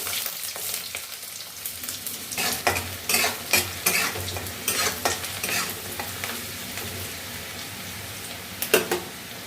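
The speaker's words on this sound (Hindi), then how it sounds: "प्याज को डाल देंगे।" Onions and chillies fry in a hot pan with a steady sizzle, broken by several bursts of scraping as a spatula stirs them, close and moderately loud with no talking.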